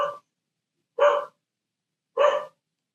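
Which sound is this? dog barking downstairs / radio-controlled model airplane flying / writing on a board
dog barking downstairs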